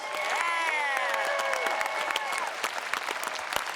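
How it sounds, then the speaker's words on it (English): Steady crowd applause at a university graduation ceremony fills the space, with cheering voices and whoops rising over the clapping throughout. "Let's have a round of applause for our master's students."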